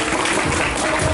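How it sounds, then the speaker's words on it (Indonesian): Audience at a national Islamic-law debate competition claps loudly for two debate teams, a dense burst of applause that stays steady throughout. "Beri aplaus kepada dua tim ya."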